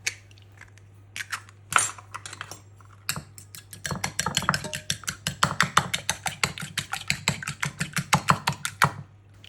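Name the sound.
whisking a whole egg in a small bowl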